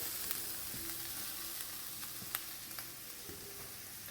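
Onions and minced garlic sautéing in a pan make a soft, steady sizzle with a few light taps of stirring, faint and continuous without talk.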